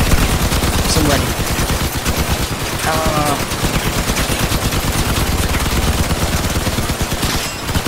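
Vehicle-mounted guns in Crossout rattle off in rapid, sustained bursts, a loud continuous machine-gun stream across the whole stretch with brief tonal engine or weapon whines mixed in.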